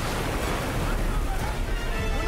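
Stormy sea waves surge against a ship on the high seas in an animated scene, a loud continuous roar of water and wind with a voice shouting over it.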